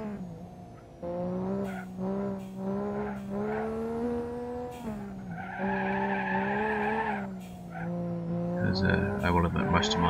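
Engine drone of a car in BeamNG.Drive on the Tail of the Dragon road shifts pitch as it brakes late, then a sustained tire squeal and skid rises before rough scraping at the end, moderately faint.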